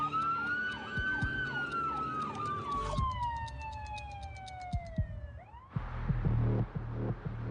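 An ambulance siren wails in sweeping cycles, then shifts to a steady falling tone as it passes, followed by road and engine noise.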